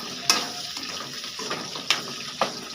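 Fried potatoes and brinjal stirred together in a pan, with a few sharp scraping clinks of the spoon against the metal over a faint steady sizzle, no talking.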